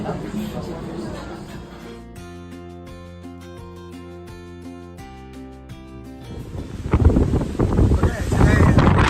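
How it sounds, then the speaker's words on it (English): Strong wind at sea buffets a sailboat on a transatlantic crossing in rough, high seas, gusting against the microphone at the start. A steady tonal hum fills the middle, then the wind roars back louder and harsher. "As you can hear, it's quite windy today"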